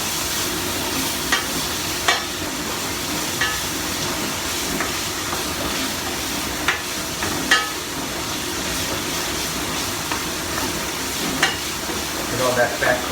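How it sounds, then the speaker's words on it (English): Red pepper sautéing in a pan gives off a steady, even sizzle with occasional small clicks of a utensil, close and continuous, and a voice is faint underneath. "Just let it saute for about a minute or two until it gets translucent."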